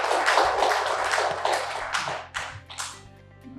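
Applause from the audience at a Korean public administration seminar's opening ceremony: a dense burst of clapping from many hands fades into scattered claps within a few seconds, with no voices over it.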